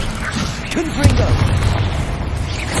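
A Confringo blasting curse in Hogwarts Legacy keeps booming in a dense, loud string of explosive bursts over steady rumbling, with a voice heard faintly beneath.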